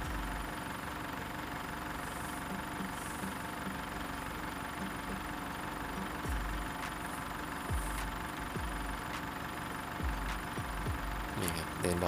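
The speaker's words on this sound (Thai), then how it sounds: "แต่นี้เราจะเดินเบาไม่ต้องเร่งเครื่องนะครับ" A steady low diesel idle from a 2007 Isuzu D-Max pickup with a 4JK1 engine, during injector cleaning, rumbles throughout with a faint knocking rhythm, nearby and continuous, with a few brief clunks near the end.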